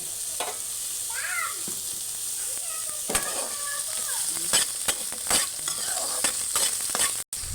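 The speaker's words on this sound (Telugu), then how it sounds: "వాష్ చేసిన ముక్కలు కళాయిలో వేసి" Washed veld grape (nalleru) pieces frying in a kadai give a steady sizzle with scattered clicks and stirring scrapes, fairly close and alone without talk.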